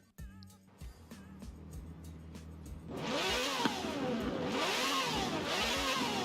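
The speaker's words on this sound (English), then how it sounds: "I left it naturally aspirated as well, so it should sound like the racing V12 it's supposed to." A naturally aspirated V12 in a Lamborghini Countach in Forza Horizon 4, idling with a lumpy burble before erupting into loud, sustained revving with rising and falling pitch sweeps through the gears.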